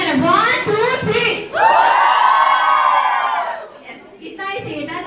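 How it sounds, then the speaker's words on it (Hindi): Audience at a one-day makeup class in Azamgarh hooting and whooping loudly, with rising cheers and shouts from a nearby crowd that fade out before more voices return; clapping is not clearly distinct under the shouting. "तो एक बार जोरदार तालियां नहीं करना, हुटिंग करना."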